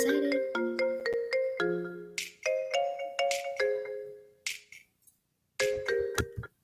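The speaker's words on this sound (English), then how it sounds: "When you have the best ringtone ever," A phone ringtone plays close and clear, a bouncy electronic melody of bright, repeating notes that breaks off for a short silence before resuming.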